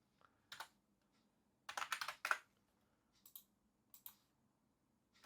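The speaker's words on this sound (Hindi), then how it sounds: "टाइप करिए, पेस्ट मत करिए।" Typing on a computer keyboard while filling in a Cambodia e-visa application form online: close, crisp key clicks in short bursts and clusters separated by pauses, with no speech.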